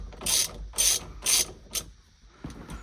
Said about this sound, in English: this bolt holds the steering wheel on. That's 21mm. Just gonna break it loose.